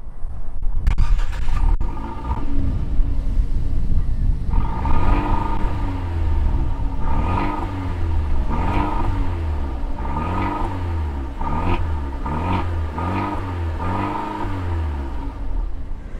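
A 2019 Fiat 124 Spider Abarth engine cranks and catches, then revs repeatedly in rhythmic bursts, rising and falling loudly and close by over a deep idle.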